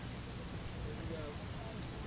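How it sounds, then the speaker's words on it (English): Steady rain falling on an outdoor track during a Cal versus UCLA track and field meet, a continuous broadband hiss with no clear voices over it. "The rain continues to come down."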